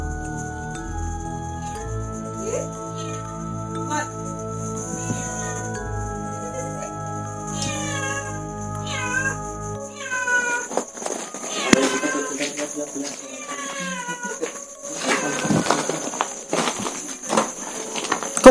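A cat meows a few times inside an abandoned roof-tile factory, faint thin calls over a steady background hum, then people talk and move about nearby.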